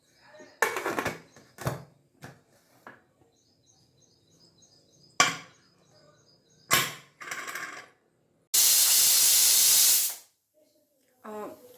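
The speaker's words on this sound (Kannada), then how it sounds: "ಒಂದು ವಿಷಲ್ ಬಂದಿದೆ ಇನ್ನೊಂದು ವಿಷಲ್ ಬರಲಿ" A pressure cooker of lentils with turmeric and salt lets off a loud burst of hissing steam lasting nearly two seconds, preceded by scattered clanks and taps in an otherwise quiet kitchen.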